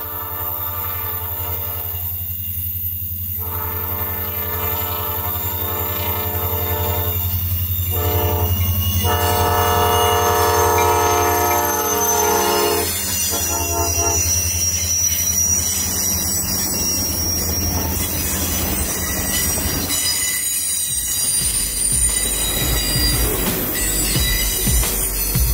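U.S. Sugar locomotive 506 hauls a loaded sugar train toward the mill at dusk, its horn blaring long and loud over a steady rumble of wheels and a low engine drone, with squealing wheels rising as it passes close by.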